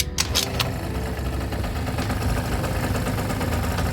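A cheap project scooter's small engine idles with a steady, close, buzzing hum, after a few sharp knocks at the start, its air screw set about one turn out.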